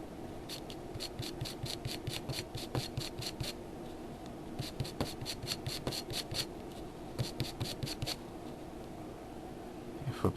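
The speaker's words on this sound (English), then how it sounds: "you just kind of scrape away at the surface here." Close, quiet scratching on the slipper pad of a vintage Kyosho Lazer ZX-S RC car, heard as quick rhythmic scraping strokes in repeated runs with short breaks between them.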